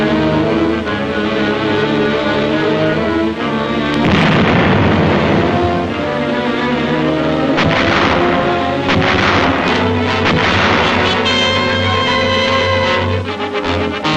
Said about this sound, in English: These are reduced individually by explosives and small arms fire.